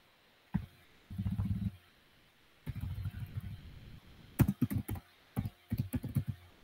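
Bursts of typing on a computer keyboard as an answer is written, clustered key clicks in several short runs with pauses between, close and fairly quiet, no talking.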